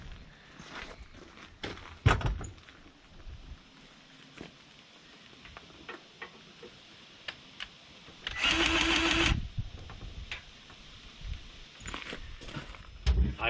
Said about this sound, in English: I will say this thing pumps the grease out pretty fast.